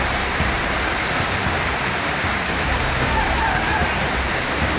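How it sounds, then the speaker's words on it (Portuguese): Heavy rain and floodwater running through a street in the Zumbi dos Palmares 2 community on Rua São João, a constant loud rushing, splashing wash with no breaks. "também mandaram vídeos da forte chuva que caiu nessa terça-feira"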